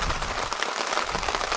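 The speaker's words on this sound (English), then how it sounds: "and the rain's moved in." Steady rain patters densely on a tipi shelter in the woods. The hiss is even and close, with no voices.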